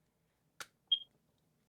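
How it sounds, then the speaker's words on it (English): A phone in the video game The Gray Garden gives a single short, clean electronic beep in near silence, just after a brief click. "That beep that her phone makes, it sounds like the noise that a fire alarm makes when its battery is low."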